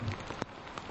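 Steady rain falls on a surface outdoors, a dense close patter with a few sharper individual drops and no voices.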